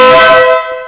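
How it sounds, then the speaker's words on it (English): A Ural motorcycle's air horn gives a loud, blaring blast with a strong steady tone, held for about half a second before cutting off and ringing briefly into silence. "And the next one's a pretty good one, our air horn."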